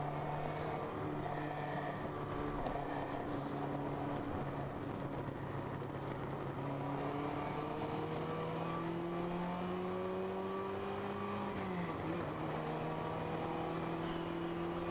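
A race car in an endurance race at Harris Hill Raceway, heard at a distance as it accelerates through the gears. Rising engine tones climb and drop with each shift over a steady background.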